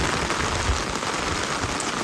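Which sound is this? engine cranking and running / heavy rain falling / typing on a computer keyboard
heavy rain falling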